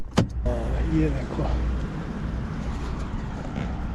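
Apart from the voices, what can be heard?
road traffic passing outside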